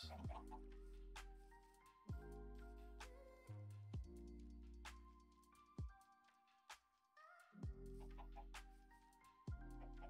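Chickens clucking in Minecraft, on a farm: several short game-style clucks spaced through the clip over steady music, fairly faint, with a voice talking now and then.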